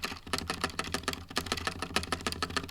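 Fingers type quickly on a Razer BlackWidow V4 75% White Edition keyboard, producing a dense run of crisp, close key clacks in an uneven rhythm over a low steady hum.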